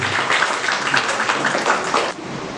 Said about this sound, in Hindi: एक बार जोरदार तालियां श्रीवास्तव सर के लिए